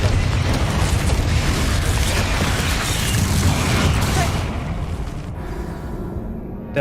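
Blasting-curse explosions in the Hogwarts Legacy video game on maximum difficulty, a loud, broad roaring boom that rumbles for several seconds before fading into quieter ambience.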